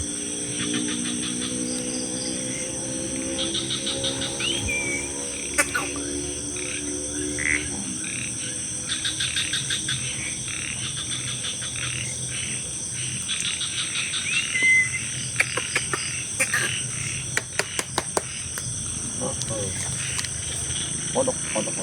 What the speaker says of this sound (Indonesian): Kodok itu.